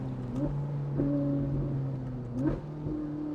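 Ferrari 458 Italia fitted with a Novitec valved sport exhaust blipping through a few downshifts, each one a short rising engine bark, heard at moderate level with steady idle-like drone between them.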